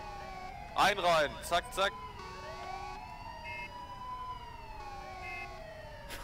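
A wailing police siren in Arma 3 sweeps up and down continuously in the background while someone speaks briefly in loud, excited bursts over it.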